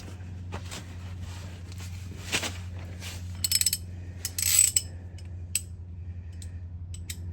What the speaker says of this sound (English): Now we'll go ahead and spin the motor over so we can get to that other one.